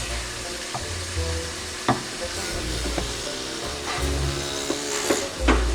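Ground beef frying in a pot with potatoes for a country chili sizzles steadily and crackles, with occasional clanks and scrapes of stirring, close and moderately quiet.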